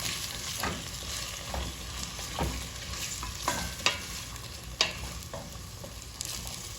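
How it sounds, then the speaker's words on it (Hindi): Ginger garlic paste fries in a pan for Turkish red lentil soup, a continuous close sizzle broken by a few scraping stirs and light clicks of a utensil. "अदरक लहसुन का पेस्ट 1 टेबल स्पून भर के आप डालेंगे इसमें, ठीक है। अब इसको हम थोड़ा सा भून लेंगे"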